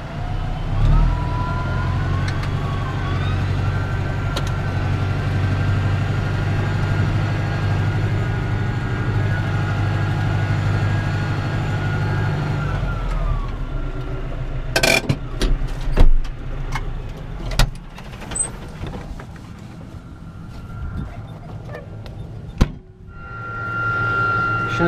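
A tractor engine runs steadily in second gear during crop drying work, a continuous low drone with a whining tone that fades out midway, followed by clanks and knocks over the running engine.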